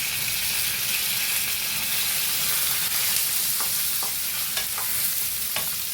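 Onions, curry leaves and green chillies fry in hot oil for a cashew coconut tomato egg curry, giving a loud, steady broadband sizzle throughout with a few brief stirring scrapes near the end.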